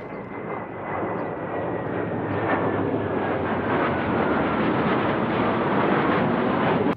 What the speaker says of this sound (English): we've got fighter jets flying around,